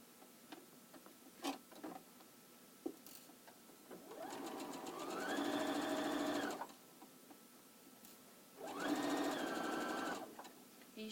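A sewing machine chain-sews quilt binding in two sustained runs that each speed up to a steady hum, with scattered clicks and handling sounds before and between them.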